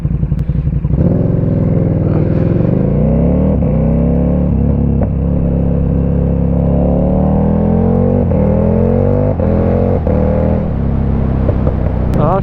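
A KTM 1290 Super Duke R motorcycle pulls away in early-morning Sydney traffic, its loud, close engine rumbling steadily and rising in pitch as it accelerates through the gears, with no voices over it.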